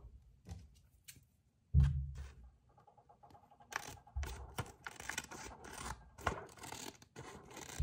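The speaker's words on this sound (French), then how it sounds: "Et je coupe un petit peu au-dessus pour que ça s'ouvre après." Paper is cut with scissors for a budget envelope, giving intermittent close snips and scraping rustles, with a loud thump partway through and a busier stretch of snipping toward the end.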